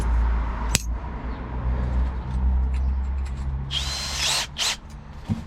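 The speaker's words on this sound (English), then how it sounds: "So I'll go with the step drill." A step drill bores a hole during a diesel heater install in a van, with one short high-pitched whining burst followed by a few sharp clicks and clatters.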